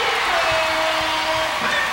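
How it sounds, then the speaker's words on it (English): A basketball arena crowd at a Bison versus Eagles game keeps up a steady wash of cheering and applause, loud and continuous throughout. "The crowd is back in this one."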